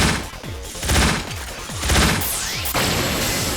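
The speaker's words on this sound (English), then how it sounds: "he's gonna do this gun kata thing here" Boss gun kata attack in the video game Raspberry Mash: a rapid volley of loud gunshots with repeated descending shot effects and sharp bursts, close and continuous, with no speech.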